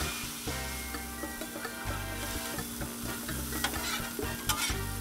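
Philly cheese steak meat sizzling on a Blackstone 22-inch griddle, a steady close sizzle under a low hum, with scraping spatula strokes and sharp clicks as the meat is mixed, and no voices.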